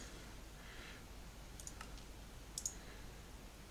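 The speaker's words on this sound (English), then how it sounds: "the only other way I know of doing it is by spam clicking, like I am doing" Faint, sparse mouse clicks from spam clicking in Minecraft, a few isolated sharp ticks over a low steady background hiss.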